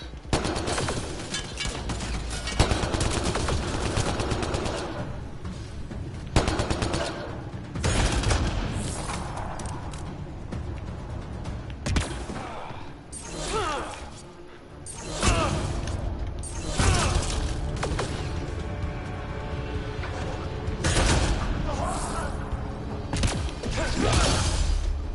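Enemy gunfire in the video game Mass Effect Andromeda: dense, loud bursts of automatic fire and impacts across the whole stretch, with brief whooshes and mechanical clatter.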